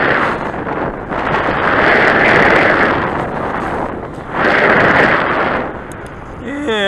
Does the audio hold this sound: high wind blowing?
yes